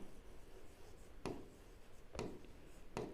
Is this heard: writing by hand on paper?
yes